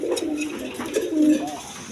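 Rajshahi Giribaz pigeons coo in close, repeated low rolling phrases, several overlapping calls rising and falling over steady background noise.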